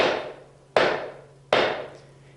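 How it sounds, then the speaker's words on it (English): Wooden mallet driving a wooden tenon into a mortise on a bench in a historic village workshop: three sharp, evenly spaced knocks, close and fairly loud, each ringing off briefly. "We put the tenon into the mortise, and then we use a mallet, and this is driven home."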